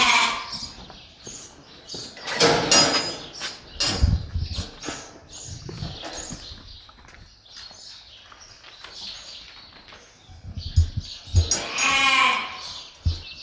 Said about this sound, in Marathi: हे सगळे ब्लॅक हेडेड डॉर्पर्स आहेत.